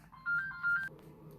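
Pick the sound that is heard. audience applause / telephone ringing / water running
telephone ringing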